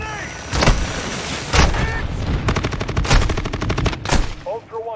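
Heavy gunfire in Call of Duty Modern Warfare II DMZ: loud single shots, then a rapid automatic burst, then another blast, all close and dense over continuous battle noise.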